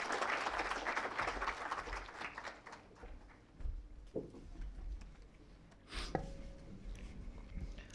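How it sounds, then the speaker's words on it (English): Small round of audience applause at a college valedictory session, loudest at the start and thinning into scattered claps, with a few sharp knocks and brief noises near the end. "small round of applause are in order"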